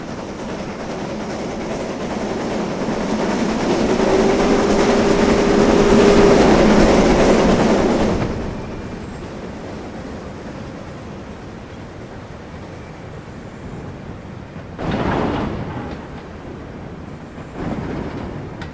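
A World War II era WD Austerity 2-10-0 steam locomotive in Train Simulator rumbles loudly and steadily with a broad roar, then drops to a quieter running background with a couple of brief surges near the end.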